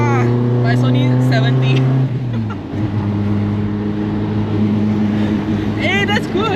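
Toyota Sprinter Trueno AE86 engine droning steadily while driving, with harmonic tones dropping in pitch around a shift and settling into a steady hum, people talking over it throughout.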